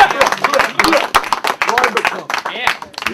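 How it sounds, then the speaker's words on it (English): Crowd clapping and cheering at a World Rap Championships semifinal rap battle, a dense burst of applause and shouts right up close that surges and dips in waves, with voices in the mix. "Crowd, let's make some noise."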